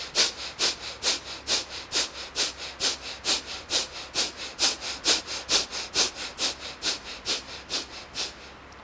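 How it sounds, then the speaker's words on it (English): During a yoga breathing practice, one person breathes in a steady series of about twenty sharp, forceful breaths through the nose, each a quick hissing puff, close and clear over quiet background. "take a deep breath"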